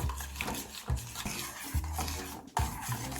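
Sugar syrup being stirred into berry puree, a spoon scraping and knocking rhythmically against a bowl roughly every second with wet mixing sounds, close up and without speech.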